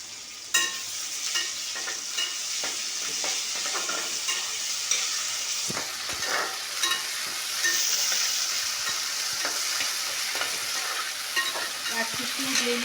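Ginger, garlic, green chili and coriander paste fries in hot oil in a pan, a steady close sizzle with occasional stirring scrapes and clicks throughout, with no talking.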